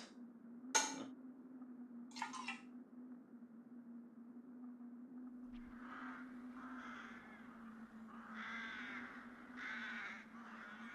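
Several harsh crow caws ring out, two sharp calls early, then a run of repeated cawing later, over a steady low hum.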